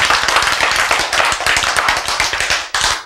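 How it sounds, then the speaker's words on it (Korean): A church congregation claps in a fast, loud, dense burst of many hands, near and sustained with a brief dip before a final surge. "자, 야, 박수."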